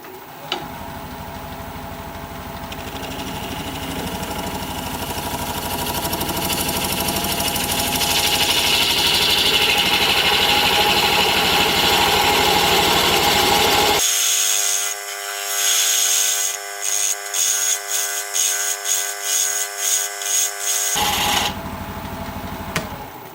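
A wood lathe turns a vase while a gouge cuts, making a continuous loud whirring drone with rising scraping texture; midway it shifts to a rhythmic, pulsing mechanical hum before the cutting noise returns briefly at the end.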